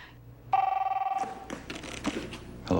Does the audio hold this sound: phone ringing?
yes